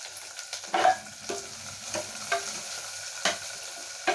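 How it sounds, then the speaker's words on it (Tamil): Potato masala with turmeric sautéing in a pan, a soft continuous sizzle broken by irregular spoon scrapes and stirs, close up with no voices. "இப்போ லைட்டாக மஞ்சத்தூள் இதிலே போட்டு வதக்கிக்கலாங்க."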